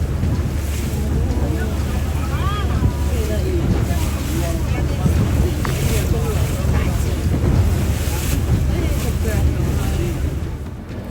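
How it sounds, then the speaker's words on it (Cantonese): A speedboat runs through strong typhoon wind toward the south shore of Basalt Island in Sai Kung, Hong Kong, with a steady roar of engine, rushing water and wind buffeting the microphone throughout. "快艇駛到香港西貢火石洲嘅南岸"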